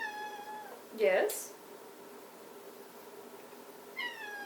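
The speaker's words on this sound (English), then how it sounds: "Quick break while I hold the kitty cat because he's crying a lot" Pet cat Mochi meowing and crying indoors: a drawn-out meow at the start, a short sharp cry after a second, and another meow near the end, with a person speaking briefly.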